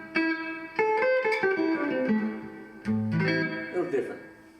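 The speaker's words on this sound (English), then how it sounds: "Sounds like old-fashioned spring reverb." Electric guitar run through an old-fashioned spring reverb effect, several picked notes and short melodic phrases with a springy, splashy decay, played close with pauses between phrases.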